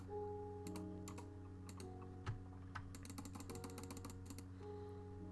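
Computer keyboard keys clatter in quick irregular bursts beside a desk mic while playing Minecraft, close and crisp over a low steady hum from the machine.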